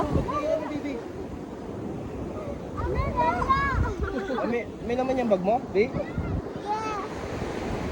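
Ocean waves wash and rumble under gusty wind noise at a beach in San Felipe, Zambales, Philippines, while several people talk nearby over the surf.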